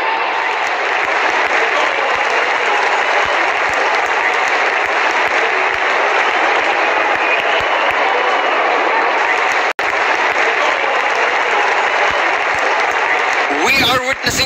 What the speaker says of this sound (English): Good to see the crowd getting involved.